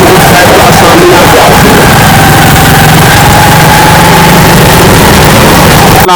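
Motorcycle engine running on a forest shortcut trail, a loud, close, steady drone that holds without a break. A voice talks over it.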